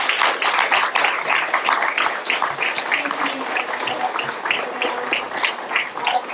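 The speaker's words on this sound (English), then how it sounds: "Let's give a big round of applause for our" Steady applause from a crowd at a political candidate endorsement forum, many hands clapping at once, sustained and fairly loud throughout with no pause.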